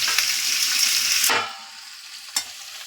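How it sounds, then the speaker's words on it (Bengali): Potatoes frying in a pan hiss with a loud, bright sizzle that suddenly dies away into quiet, then flares briefly once more. "আলুগুলো একটু ভেজে নেব।"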